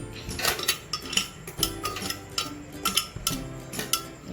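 Spoon scraping and clinking against a bowl as chicken nugget mixture is transferred, irregular close taps and clinks with a short tonal ring, no talking.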